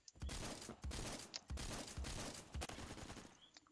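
Repeated KSG 12 shotgun blasts in the Phantom Forces video game, sharp booming shots in an irregular rhythm with short gaps between them, loud and close with little else around them.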